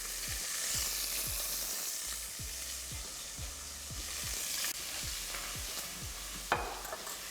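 Chicken pieces fry in a pan with a steady, close sizzle, broken by a regular series of soft ticking pops and one sharper crackle near the end, no talking.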